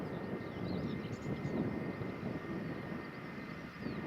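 A jet airliner on a long floating landing at Newcastle Airport, its engines a steady broad roar with a faint whine, moderately distant and holding level for the whole stretch.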